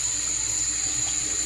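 Tap water streams steadily into a sink while seafood is rinsed for a Jamaican-style seafood soup, a continuous close splashing rush with no break.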